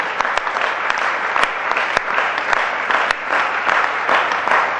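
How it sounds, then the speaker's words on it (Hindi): Audience applause at a religious gathering honoring an acharya's 50th initiation day, dense sustained clapping from a large crowd throughout, fairly loud and even with scattered sharper claps. "तहे दिल से जोरदार तालियों के साथ अनुमोदना करते हैं।"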